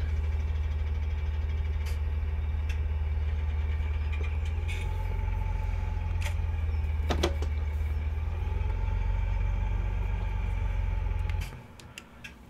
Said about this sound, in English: I don't like the noise in the Massey.